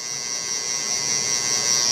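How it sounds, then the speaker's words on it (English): Electric hair clippers held sideways buzz steadily while detailing the neckline of a mid taper haircut, a close, continuous high-pitched hum with no pauses. "take your clipper or your trimmer, turn it to the side, and basically just detail all right there"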